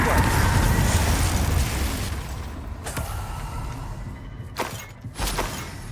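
A Confringo blast spell going off in Hogwarts Legacy: a loud, roaring explosion that fills the opening seconds and slowly decays, followed by a few sharp crackling bursts and impacts near the end.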